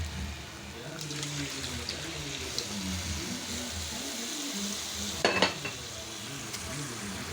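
A sautéed mixture frying in a pan for Kerala-style home cooking, with a soft steady sizzle, occasional stirring scrapes and a brief louder clatter, and faint talking in the background.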